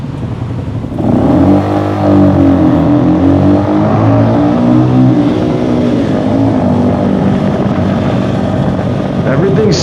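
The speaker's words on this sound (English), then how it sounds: "There's revving, wind going downhill," On a downhill ride, a motorcycle engine revs loudly and continuously with rushing wind noise, the pitch rising and falling in sweeps, while a rider talks over it.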